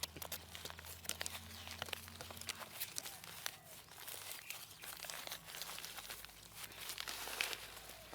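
A plastic nursery bag is torn and peeled away from a durian seedling while it is planted on a clay mound outdoors, making faint, steady crinkling and ripping sounds for several seconds with no talking.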